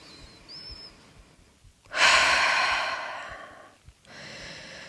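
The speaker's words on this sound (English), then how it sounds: "Maybe take some deep releasing breaths" A single deep, audible exhale, as in a releasing breath in yoga staff pose, rising suddenly and fading over about two seconds, with a softer breath following, close and alone in a quiet room.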